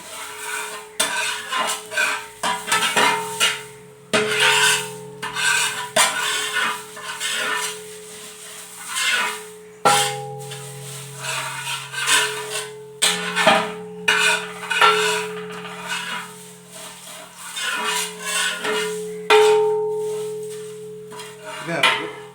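Ingredients being stirred and roasted in a pan for Idiyirachi, dried shredded meat, with repeated metallic scrapes and clanks of a spoon against the pan in an uneven rhythm, close and fairly loud, no voices.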